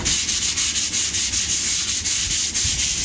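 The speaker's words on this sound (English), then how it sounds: "After finish sanding" Steady rhythmic sanding of a wall surface being prepared for paint, a loud harsh scraping rasp repeated in quick even strokes, close up with no voices.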